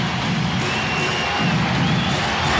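Portland Trail Blazers home crowd cheering through an NBA Finals game against the Chicago Bulls, a loud sustained arena roar that swells slightly toward the end with no talk over it.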